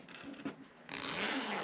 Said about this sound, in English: at this stage I just test my zipper